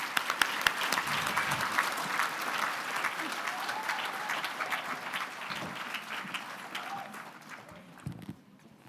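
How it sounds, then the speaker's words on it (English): An audience at a regional chamber awards event applauds the nominees with a steady, dense wash of many hands clapping at some distance. It slowly fades toward the end, with faint crowd murmur underneath. "Can we please have a round of applause for our second group of nominees?"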